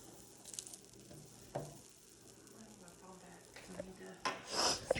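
Pam cooking spray sizzles in a hot pan while pancakes are being made, a soft hissing fry that swells louder and brighter near the end, with faint clatter and movement underneath.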